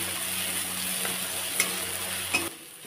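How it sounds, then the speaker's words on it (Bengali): Ground spices with chili powder and sugar frying in oil for a bottle gourd and egg curry, a constant close sizzle with two brief clinks of a utensil before the sound cuts off near the end. "মশলাটা ভালো করে ভেজে নিয়েছি"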